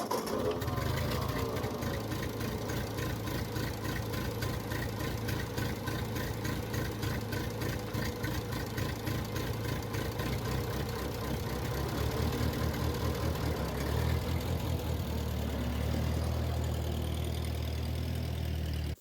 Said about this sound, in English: This time when I started it up, it was running terribly.